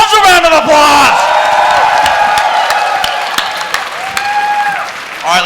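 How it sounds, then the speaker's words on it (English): A late-night convention crowd at BronyCon claps and cheers, loud whoops and yells riding over steady applause that eases slightly before rising again at the end. "Give yourselves a round of applause."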